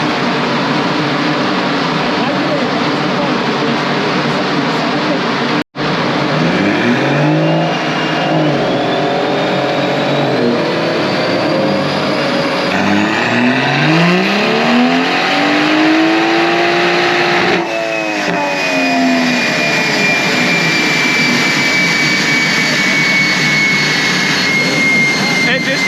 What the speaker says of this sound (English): This thing is whipping up the rev range